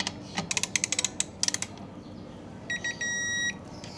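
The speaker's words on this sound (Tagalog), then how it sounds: "Hand tight muna. Sabay torque, 24 Newton meters." A torque wrench ratchets a series of sharp, close clicks while an oil drain bolt on an ADV 160 scooter is tightened to 24 newton meters. A steady electronic beep follows, signalling the set torque.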